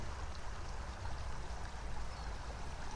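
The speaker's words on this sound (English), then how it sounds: "Yeah, good river sounds." The American River flows in a steady, broadband rush of water, continuous and fairly close, with no voices.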